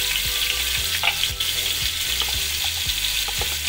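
Ginger paste sizzling and frying in a hot pan while kadhi pakora is prepared, with a steady close hiss, occasional crackles and a few stirring clicks throughout.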